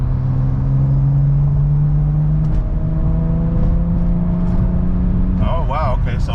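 A tuned BMW M340i accelerates hard from inside the cabin, its engine drone rising steadily in pitch through a gear before a shift, loud and continuous throughout.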